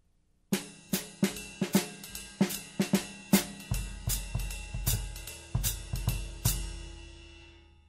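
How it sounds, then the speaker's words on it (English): A jazz-rock drum set pattern with snare and bass drum accents placed under steady ride cymbal and hi-hat time, sharp close hits in a brisk, syncopated rhythm with cymbal wash ringing throughout, no voices. "I can put that in the snare drum or in the bass drum while I'm playing time with the ride cymbal and hi-hat"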